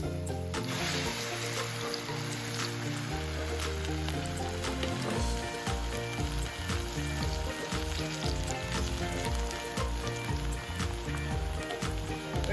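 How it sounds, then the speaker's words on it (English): Food frying again in a pan in a Colombian home kitchen, a steady loud sizzle and crackle running throughout without pause, with no talking. "We're gonna fry it again."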